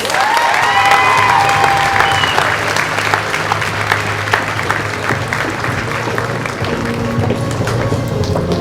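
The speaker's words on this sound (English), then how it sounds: "Let's give these girls a big round of applause." A Distinguished Young Women pageant audience in Potlatch gives the participants a long, loud wash of applause mixed with cheering and whoops, dense and sustained throughout, a few vocal shouts riding on top early on.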